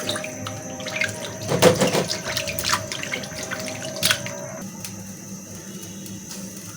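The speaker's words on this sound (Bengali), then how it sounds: "এই যে মাংসগুলো ধোয়া হয়ে গেছে" Meat rinsed under a running kitchen tap, water splashing and dripping into a sink with scattered clinks, fairly close and loud, with faint voices in the background.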